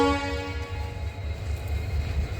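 A train idles at a quiet railway station in Tamil Nadu, its low engine rumble steady throughout, with a sustained horn tone fading out early on.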